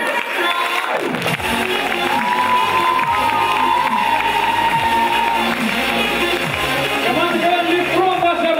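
An audience at an open-league KVN comedy show applauds and cheers a team, a steady wash of clapping, whoops and shouts that stays loud throughout, with some voices mixed in.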